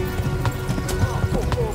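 A horse gallops in the Kingdom Come: Deliverance video game, rapid hoofbeats drumming close and loud with a rushing rumble beneath and voices over the top.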